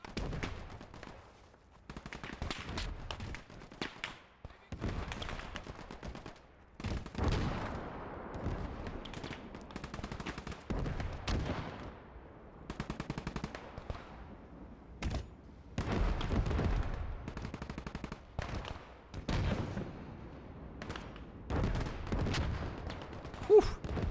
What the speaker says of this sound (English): Those mortars are going hot. Oh, that MG42 sounds nice.